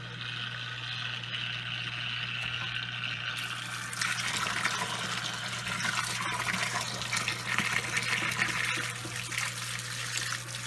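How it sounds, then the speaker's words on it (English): Water is siphoned out of a home aquarium, pouring in a steady trickling, gushing stream into a container close by, growing slightly fuller and louder partway through, with no talking. "I do siphon my water."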